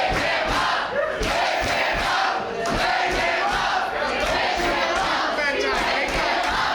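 A wrestling arena crowd at a PrideStyle 17 dog collar match, cheering and roaring in a dense, loud, continuous wall of voices with rhythmic surges and chants throughout.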